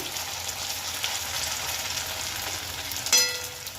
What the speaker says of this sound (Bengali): দেখো তেল গরম হয়ে গেছে এবার কোপ্তাগুলো আমি ছেড়ে দেবো দুবারে ভেজে নেব